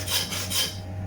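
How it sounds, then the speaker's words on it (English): A saw cutting down the middle of a whole lamb carcass during butchery, two quick rasping strokes close by in a steady back-and-forth rhythm. "it's just a case of sawing down the middle again, nice and even"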